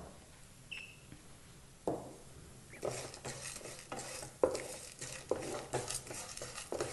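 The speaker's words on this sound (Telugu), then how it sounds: "ఇవి మూడు కూడా లైట్ బ్రౌన్ కలర్ వచ్చే వరకు మనం వీటిని వేయించుకోవాలి" Fenugreek seeds, chana dal, urad dal and cumin being stirred and fried in a pan, a soft sizzle under scraping spoon strokes against the metal, starting quiet and growing busier with irregular knocks.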